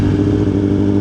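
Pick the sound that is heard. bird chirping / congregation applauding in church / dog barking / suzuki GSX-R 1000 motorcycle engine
suzuki GSX-R 1000 motorcycle engine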